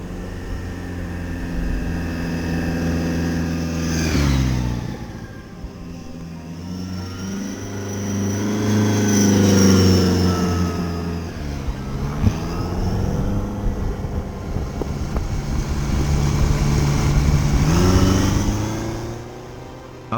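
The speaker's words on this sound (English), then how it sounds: "A very unusual engine sound for sure." A BMW K100 RS cafe racer motorcycle engine revs up and down repeatedly, rising and falling in pitch with a loud, droning tone, close by and steady throughout.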